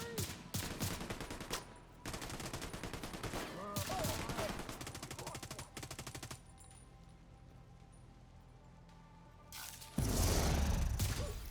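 Gunshots in The Division 2 come in rapid automatic bursts, loud and close, broken by a quieter stretch and a final heavy burst, with a voice speaking briefly.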